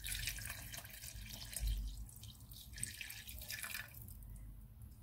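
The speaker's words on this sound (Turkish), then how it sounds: "Şöyle suyunu ilave ediyorum." Water poured from a vessel into a pan of browned lamb shanks being prepared for oven baking, a steady quiet trickle and splash lasting several seconds with no talking.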